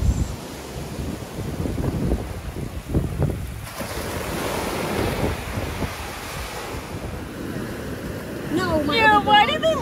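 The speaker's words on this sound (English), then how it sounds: "The waves were way better today, so Finley's riding the waves." Ocean surf rolls in at Indian Shores beach, a steady wash of waves buffeted by strong wind on the microphone, with a voice or two briefly heard near the end.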